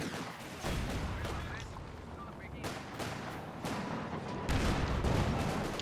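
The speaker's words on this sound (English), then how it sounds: "Section they're losing its cover, thanks to the Panzer IV's high explosive shell." Game gunfire and shell blasts from a Panzer IV firing high-explosive rounds in the World War II strategy game Company of Heroes 2, with several booming impacts over a dense battle din.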